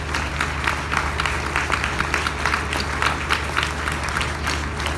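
Audience applause for the mayors at the inauguration of the T6 tramway, a steady dense patter of clapping filling the space without a break, fairly loud throughout with a low rumble underneath.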